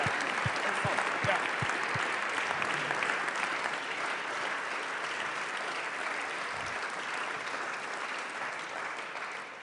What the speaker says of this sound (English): Let's give our two speakers a round of applause